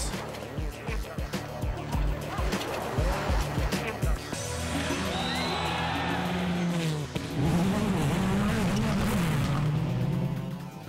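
WRC rally cars running flat out on a snow stage in Sweden in 2003: loud, close engine revs and gear changes, a rhythmic burst of pulses, then a sustained wailing pass-by with tyre noise.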